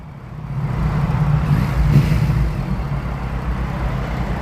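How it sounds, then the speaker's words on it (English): A big motorcycle engine revs up, swelling to a loud, deep roar that peaks and then eases back into a steady rumble, heard close and alone. "Rev it up again, rev it up again."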